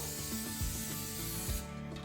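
Cooking spray misted into a baking pan before mixing a granola bar recipe, a soft, faint hiss with rubbing and scraping handling noise over about two seconds, no talk.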